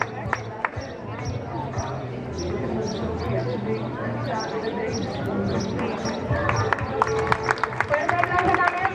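An audience applauds at a fashion show in Nueva de Llanes, a steady patter of clapping under crowd noise that builds toward sharper, louder claps at the end.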